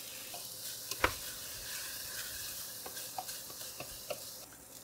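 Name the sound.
tomato paste roasting in a pot for goulash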